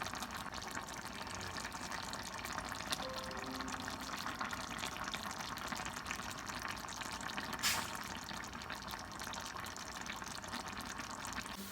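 Puerto Rican rice with pigeon peas simmers in a pot, a steady, soft sizzling bubble that runs on evenly without pause.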